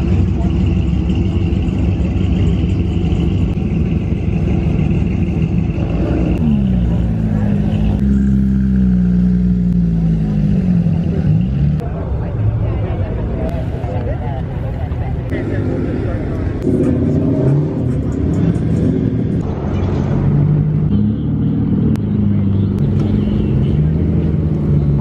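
Exotic supercars drive past at a roadside gathering, engines rumbling and revving in several swelling bursts, some close and loud, with people talking over the car noise.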